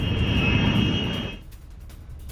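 Jet engine roar of F-16 fighter jets taking off for an airstrike, loud and sustained with a high whine, then dropping away to a fainter rumble as the aircraft recede.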